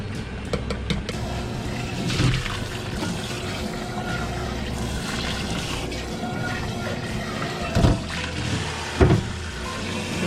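Cold tap water runs steadily while napa cabbage is rinsed in a kitchen, a continuous splashing flow with a couple of louder sloshes near the end.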